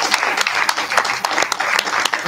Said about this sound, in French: nous pouvons t'applaudir en guise de sincères remerciements